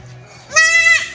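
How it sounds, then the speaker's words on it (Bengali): A newborn goat kid lets out a single short, nasal bleat close by after a quiet moment with faint background noise. "আমি কচি বাচ্চার আওয়াজ শুনতে পাই গিয়ে দেখি যে আমার এই ছাগলটা বাচ্চা দিয়েছে"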